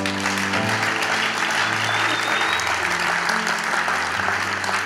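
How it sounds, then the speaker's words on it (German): A dense, steady wash of audience applause fills a large church hall at a 2016 ICF Reach event during a children's segment, loud and unbroken for several seconds over soft background music. "Nochmal euer Applaus."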